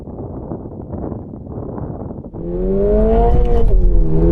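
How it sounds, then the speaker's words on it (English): Toyota car launching in a drag race with wheel spin: rough wind buffeting gives way to a loud, close engine whose pitch climbs steadily as the car accelerates away, with no voices. "Bit of wheel spin there."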